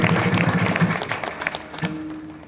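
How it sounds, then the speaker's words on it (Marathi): A crowd at a live Akhand Harinam Saptah gathering claps for the maharaj, a short patter of hands that thins out, a sustained tone rising as the clapping fades. "महाराजांसाठी एक वेळ टाळ्या"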